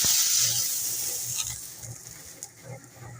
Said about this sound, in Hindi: पानी की भाप से माशाल्लाह ये पक भी जाएंगे, जलेंगे भी नहीं।